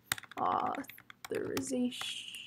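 Keys tapped on a computer keyboard in bursts of typing close to the mic, mixed in with a person talking.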